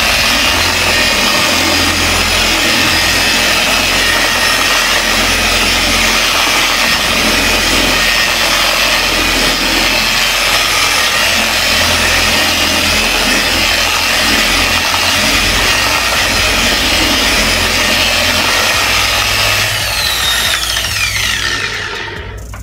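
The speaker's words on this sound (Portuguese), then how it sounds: "Fazendo uma pressão moderada aqui. Diminuindo a velocidade para o acabamento." A Vonixx 4-in-1 polisher works a surface at reduced speed under moderate pressure, giving a loud, continuous steady whir that runs nearly the whole time and eases off at the end.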